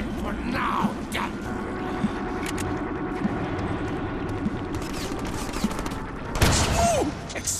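Gunfire in the Deadpool video game, a continuous rattling stream of shots under game noise and music, ending with a louder burst near the end.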